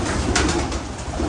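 A pigeon coos softly in low, throaty bursts against a steady background hum, heard up close.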